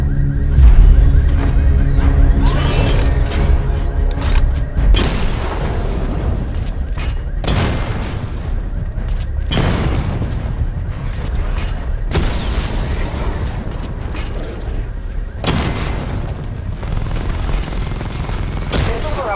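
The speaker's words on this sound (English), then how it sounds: "Destroy targets to charge up weapon energy and activate missile barrage." Tank-mode Batmobile cannon fire and explosions in Batman: Arkham Knight, loud repeated booming blasts and bursts of rapid fire over a continuous rumble, with occasional voice in the background.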